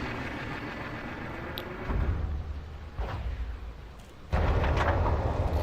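Heavy weapon fire hitting a ship in the space game Elite: Dangerous, low rumbling blasts and bursts over a steady droning background, one loud explosion near the end.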